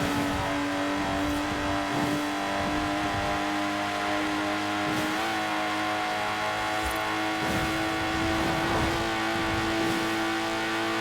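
A Lotus Exige with no power steering drives in Forza Horizon 4, its engine droning loudly and steadily throughout, with gear changes and revs rising and falling.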